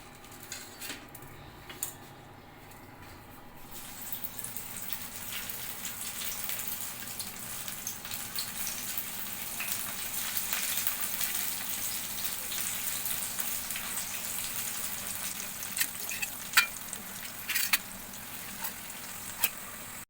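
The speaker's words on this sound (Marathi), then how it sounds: "ह्याला आपण शॅलो फ्राय करून घेणार आहोत" Taro leaf rolls (alu vadi) shallow frying in oil in a pan, giving a steady, close sizzle that grows fuller over the stretch, with occasional light scrapes of a utensil and no talking.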